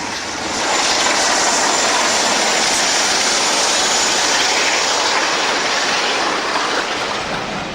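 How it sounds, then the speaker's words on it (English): A British Rail Class 46 diesel locomotive hauls a passenger train from Edinburgh southward through Selby in 1975, producing a loud, steady broadband engine and rolling roar that holds evenly throughout, with no talk. "Another 46 motoring south through Selby with a train from Edinburgh in July 1975."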